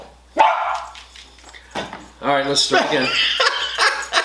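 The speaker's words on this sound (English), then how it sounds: "I said the dogs are going to bark." Dogs bark sharply in a few bursts, close and loud, mixed with laughter and someone talking over them in an indoor room.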